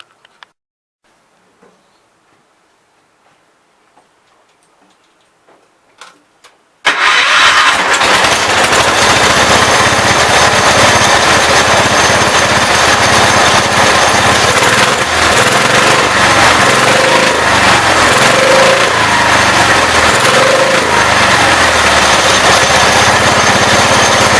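A 1980 Wheel Horse C145 lawn tractor catches after several quiet seconds, then its engine runs loud and close in a continuous, harsh drone to the end.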